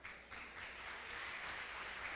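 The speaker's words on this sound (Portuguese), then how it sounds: "Você pode aplaudir Jesus?" Church congregation applauding during a sermon, a dense steady wash of many hands clapping throughout, fairly distant and even in loudness.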